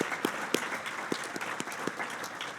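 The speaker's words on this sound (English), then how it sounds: "So let's applaud, let's say." An audience at a CEDAR workshop plenary session claps together in a brief, moderately distant burst of applause that stays fairly even throughout.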